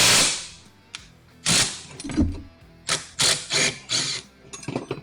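A rivnut installation tool being turned with a wrench to crimp a rivnut, a series of close mechanical clicks, ratcheting turns and metallic scrapes in uneven bursts, with no talk.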